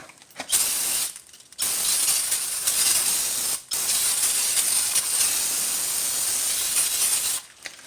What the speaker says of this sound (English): Use some brake cleaner.